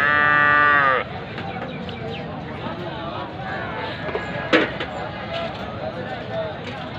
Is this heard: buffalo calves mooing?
yes